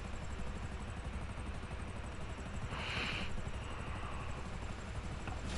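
A helicopter in the video game GTA drones steadily as a constant low engine rumble with a faint high whine, holding an even level throughout with a brief brighter swell midway.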